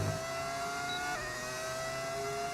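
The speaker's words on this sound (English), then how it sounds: "Why does my engine sound so good? It's a mod." A modded Formula One car engine in a racing video game holds a high, steady whine with a brief shift in pitch partway through, playing alone without talk.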